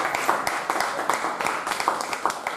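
Audience applause at a live stage event, a steady wash of many hands clapping with no break, moderately loud and fairly close throughout.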